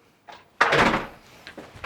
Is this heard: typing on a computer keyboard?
no